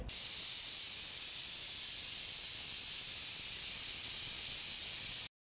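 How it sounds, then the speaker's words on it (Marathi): A pressure cooker boiling raw mangoes vents steam in one steady, loud hiss that holds for about five seconds before cutting off abruptly. "कुकरच्या छान असे 5-6 शिट्या काढून घेणार आहोत"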